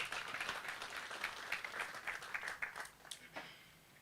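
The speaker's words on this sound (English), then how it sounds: "The chairman deserves another hand clap." An audience at an engineers' oath ceremony claps for the chairman, a faint, fairly distant round of applause that thins out into scattered claps toward the end.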